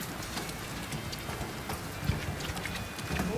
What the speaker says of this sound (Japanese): ここまで雨の音がしてるのも初めてでしたよね。